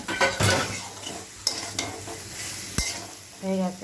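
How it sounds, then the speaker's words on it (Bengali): Soybean curry stirred in a pan after a splash of water is added to the frying spices, with a soft sizzle and scraping spoon strokes, a few sharper knocks against the pan, and a brief spoken phrase near the end. "এবার আমি জল দিয়ে দেবো বেশি জল দেবো না"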